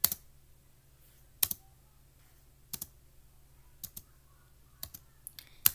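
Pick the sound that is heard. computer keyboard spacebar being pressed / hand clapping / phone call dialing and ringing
computer keyboard spacebar being pressed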